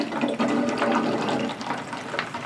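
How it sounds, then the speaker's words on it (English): Water swirling down into a vortex inside a bottle, a steady gurgling, rushing wash with bubbly churning, close and continuous throughout. "it changed from having those bubbles going to turning into that nice, smooth, consistent vortex"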